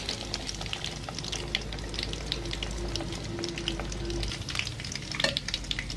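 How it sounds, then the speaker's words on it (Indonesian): Beef frying in a pan gives a dense, crackling sizzle with occasional stirring scrapes, close and moderately loud, steady for the whole stretch with no one speaking. "karena daging empuk saya tidak menggorengnya terlalu kering ya cukup seperti ini"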